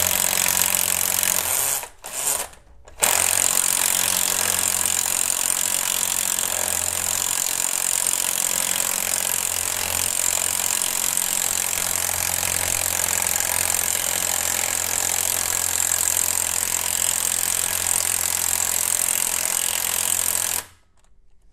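A power tool working out a very long bolt runs loud and steady, a rough grinding-hammering drone that holds for nearly the whole stretch after a couple of brief stutters at the start.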